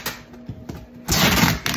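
A large cardboard mailing box being folded by hand: a few soft creases and taps, then a louder, crisp rustle of flexing cardboard near the end, close and fairly quiet.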